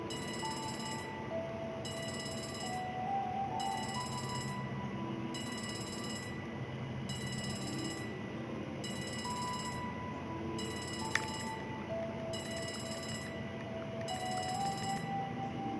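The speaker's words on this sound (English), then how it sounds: "You're probably wondering why I'm letting the phone ring." A telephone rings in The Legend of Heroes: Trails from Zero, its bright trilling bursts repeating in a steady on-off rhythm over soft background music, going unanswered for many cycles.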